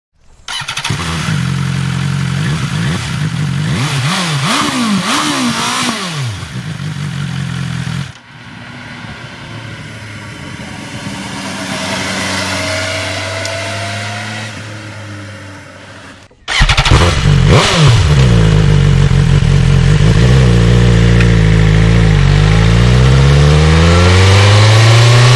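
A BMW S 1000 R four-cylinder motorcycle revs hard and loud, its engine note climbing, dropping at shifts and climbing again, with a quieter easing-off stretch in the middle before another strong surge of acceleration.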